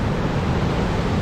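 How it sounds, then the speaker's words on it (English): River currents rush against stone near a historic town riverbank, a steady, dense, broadband roar of churning water, close and continuous, with no voices. "The currents are spitting at me."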